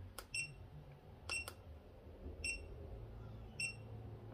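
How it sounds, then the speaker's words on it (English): A BUUOC dog training collar gives high electronic beeps repeating at roughly one-second intervals, short and clear, with faint clicks before some of them in an otherwise quiet room. "if you hold it down, it keeps beeping"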